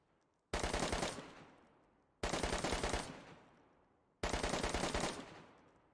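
Three rapid machine-gun bursts in a video game with a shoulder-fired Mosin, each a quick rattle of about seven or eight rounds that trails off, separated by short silent gaps.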